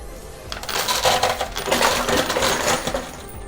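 Coins clatter and jingle in a high limit coin pusher machine, a dense, continuous metallic cascade of tumbling coins, close and fairly loud throughout with no voices.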